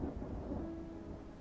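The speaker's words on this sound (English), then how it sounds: "that rain scared me." Thunder rumbles low and steady under falling rain, a dull continuous roll heard alone at moderate loudness.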